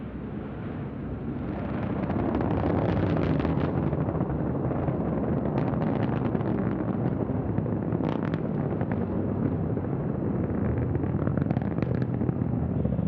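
Antares rocket launching the Cygnus cargo spacecraft SS Piers Sellers toward the International Space Station, a loud continuous broadband roar that swells after the first two seconds and holds steady, with rumbling crackle throughout and no talk.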